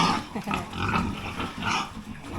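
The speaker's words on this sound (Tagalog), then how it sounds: "Ito aking mga baboy guys na makukulit. May ingay." Pigs grunt and squeal in a piggery in a close, noisy, continuous chorus of rough, overlapping calls with no pauses.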